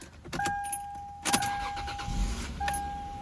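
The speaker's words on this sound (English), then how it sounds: "I'm gonna turn on the engine so you guys can, hear it for yourselves" A Lexus IS300 engine cranks and catches with a short burst, accompanied by a steady electronic chime and some clicking and rustling nearby.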